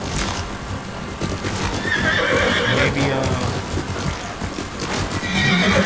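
A horse in the video game Ghost of Tsushima neighs repeatedly over steady clip-clopping hooves, the whinnies rising and falling across the stretch while someone talks softly now and then.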